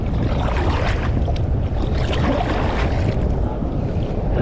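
Strong waves and gusting wind at sea, heard from a small boat: a dense, unbroken roar of rushing water and wind, loud and close for the whole stretch, with no talking.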